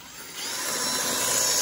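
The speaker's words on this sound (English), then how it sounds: "Right now, I've got it on regular drill mode" A power drill grinding a bit into a concrete wall in regular, non-hammer drill mode, a steady high whine that builds slightly as it bears down, close and continuous with no talk.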